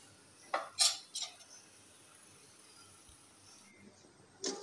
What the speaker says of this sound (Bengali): ঢাকনা দিয়ে ঢেকে রেখে দিই